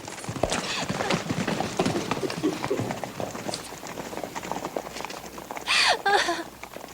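A horse in a Western-era setting gallops off, its hooves clip-clopping at a quick, steady beat that runs throughout, with a brief whinny near the end and a few voices mixed in.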